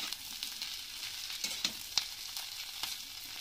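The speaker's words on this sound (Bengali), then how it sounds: "মাছ ভাজা হয়ে গেল, তার ভিতরে দিয়ে দিলাম পেঁয়াজ আর কাঁচা লঙ্কা চেরা" Steady oil sizzling and crackling as onions and slit green chillies fry in a pan with fish, with a few sharper pops and spatters over the constant hiss.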